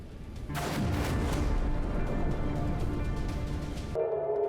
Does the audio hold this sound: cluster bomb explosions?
yes